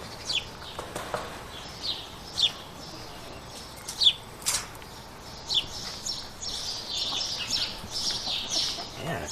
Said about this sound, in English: Anyway, hey chicken friends.